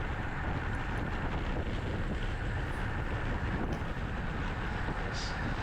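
Steady, loud wind roar from a headwind buffeting a microphone during a road cycling ride, a dense continuous rush filling the whole stretch with no pauses.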